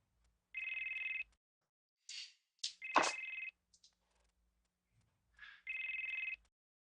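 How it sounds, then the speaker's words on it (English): A telephone rings in bursts of bright electronic trills, with one ring early, a broken cluster of rings in the middle and another ring near the end, separated by near silence. "I could tell when my phone started to ring"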